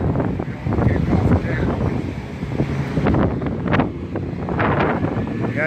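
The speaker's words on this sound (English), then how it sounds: "The wind is going." Strong outdoor wind gusting and buffeting the microphone beside a road with traffic, rough roaring bursts throughout, with a voice faintly mixed in under the noise.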